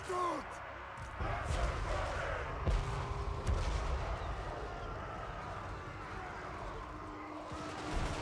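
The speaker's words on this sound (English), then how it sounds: "Interestingly, the cannons are shooting centrally." Dwarf cannons firing in a Total War Warhammer battle, a series of heavy booms and percussive blasts over dense battle noise, with a voice talking through it.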